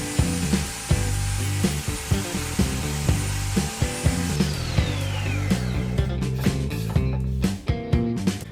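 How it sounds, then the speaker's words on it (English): A Ridgid table saw fitted with a zero-clearance throat plate cuts a thin rabbet in thin plywood, a loud, steady whine with a pulsing blade note that wavers as the wood feeds through, close and continuous throughout. "I can cut a really thin rabbet on a thin piece of plywood."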